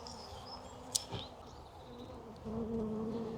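Honeybees buzzing at beehives during swarm trap and hive work outdoors, a steady low hum of many bees close by, with a single sharp click near the start and the drone swelling louder toward the end.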